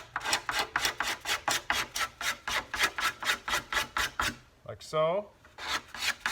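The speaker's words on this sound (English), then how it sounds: "I gotta scrape all the binding out with this scraper." Card scraper rasping binding on a harp guitar in a luthier's workshop, about a dozen quick rhythmic strokes close up, then a short pause broken by a brief squeaky scrape and more strokes, with a few spoken words.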